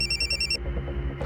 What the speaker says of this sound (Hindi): 1 मिनट, उसी नंबर से फोन है।